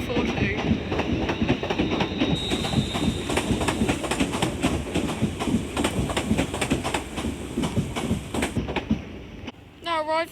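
A Class 350 passenger train rolls through Crewe station on the West Coast Main Line with rhythmic clickety-clack wheel beats at close range, ending in a brief squeal.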